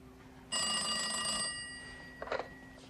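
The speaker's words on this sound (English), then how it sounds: "Can you call me back? I want to test out the phone." A telephone rings once during a test call, a loud, close bell-like tone lasting about a second that fades out, followed by a brief clatter.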